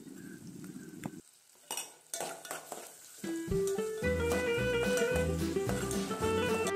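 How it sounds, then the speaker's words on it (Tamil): Crushed garlic and onions sauté in a hot pan, a soft sizzle broken by utensil clinks and scrapes, then a louder, denser frying hiss with steady stirring noise fills the second half. "இதையும் நல்லா சாட்டே பண்ணிக்கோங்க."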